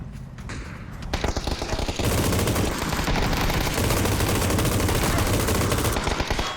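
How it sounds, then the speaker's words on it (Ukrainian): Dense, continuous automatic gunfire from PUBG, loud and close, building after a sparser opening and firing nonstop to the end. "Хто Стреляет по нам?"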